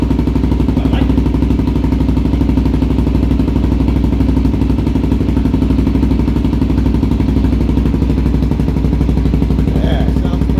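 A Suzuki DRZ 400 SM single-cylinder engine idles steadily through a Delkevic aftermarket exhaust, a close, continuous clattering thrum that holds even for the whole stretch, with a few faint background clicks.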